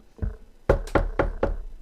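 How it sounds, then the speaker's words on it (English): Knocking on a backstage ladies' dressing room door: a faint first tap, then four firm, evenly spaced knocks, close and fairly loud, with no voices. "And he goes up to the door and he knocks."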